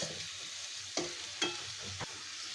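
Frying radish curry with puti fish gives a steady sizzle, broken by three sharp stirring clatters and splashes as fish and broth are tipped into the pan.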